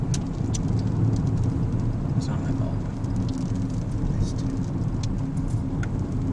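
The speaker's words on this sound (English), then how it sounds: "Why is it raining?" Rain patters steadily on a car touring the Puerto Rican countryside, a dense hiss with scattered taps over a low engine and road rumble, while people talk inside the cabin.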